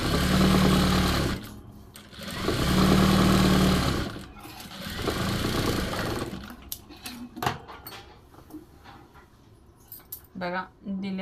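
Sewing machine stitching a four-tuck blouse: two long loud runs of steady motor whir, then shorter bursts and clicks of the needle and fabric handling close up.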